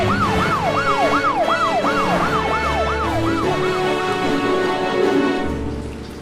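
Cartoon police car sirens in a night scene, a loud wailing siren rising and falling about a dozen times in a steady rhythm, then fading as it passes by, with a low engine rumble beneath.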